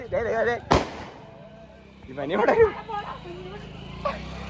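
Sharp firecracker bangs burst out during Vishu celebrations in a village, one loud crack then scattered pops, amid lively voices talking and shouting nearby.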